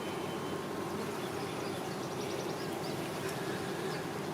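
Honeybees inside an active hive during an inspection, a dense continuous drone of many wings buzzing at close range, steady and even in loudness throughout.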